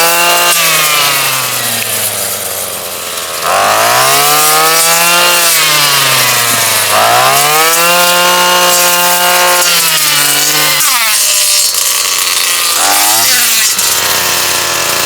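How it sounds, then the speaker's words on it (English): A lawn mower engine runs loud and close, its pitch rising and falling repeatedly as the load changes while cutting, with a short dip in level early on. "Let's mow the lawn."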